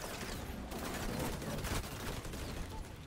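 Rapid bursts of gunfire in the video game XDefiant, dense overlapping shots filling the whole moment, loud and close with no pause.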